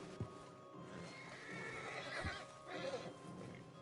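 A horse in Red Dead Redemption 2 gives a drawn-out whinny and snorts while hooves clip-clop and thud at intervals, quiet and close, with faint ambient rustling.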